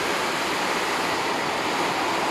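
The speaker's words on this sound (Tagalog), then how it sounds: "Biglang lakas ng ulan" Heavy rain pouring down outside a loft during a typhoon, a dense, steady, loud roar of water with no break and no voices.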